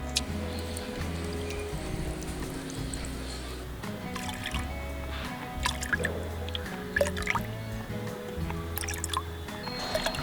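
Liquid plant fertilizer for a terrace garden is poured into a bottle cap, giving intermittent trickles and drips over a low background hum, with light handling noises.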